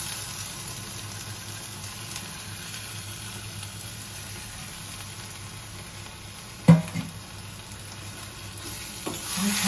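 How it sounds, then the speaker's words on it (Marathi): Marinated prawns, previously coated with lemon, turmeric and salt, sauté in a pan with pumpkin and beans, giving a steady low sizzle with a brief clatter of stirring near the end. "आता आपण यावर मॅरिनेशन केलेली कोळंबी घालायची"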